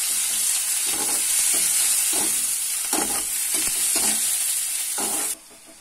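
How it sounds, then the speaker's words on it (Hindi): Cumin seeds, coriander and onion hit hot oil in a pan while a bitter gourd curry is being made, giving a loud, continuous sizzle broken by repeated scraping stirs, until it suddenly cuts off near the end. "उसी तेल में हम अब हम जीरा धनिया डालेंगे और प्याज डालेंगे"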